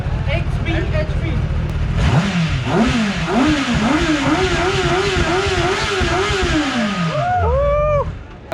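A stock-exhaust Zontes 350e motorcycle revs hard at a motor show: the engine climbs and falls through several loud, close throttle blips before settling back down, with crowd noise underneath.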